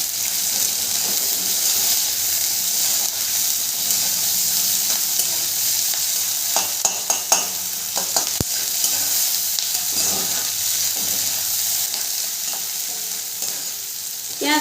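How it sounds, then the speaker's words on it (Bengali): Chopped onion fries with nigella seeds in hot oil, a loud continuous sizzle and hiss with repeated stirring clinks and scrapes of a spatula against the pan partway through. "পেঁয়াজটাকে একটু নেড়ে চেড়ে ভেজে নেবো।"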